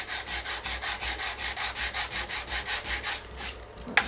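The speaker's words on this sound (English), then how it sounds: "I think that sanding through the lettering when you're stenciling makes it look like it's part of the project." A sanding block rubs back and forth over stenciled lettering on a wooden project, a steady run of about fifteen rhythmic scratchy strokes, close and clear, then stopping with a small knock at the end.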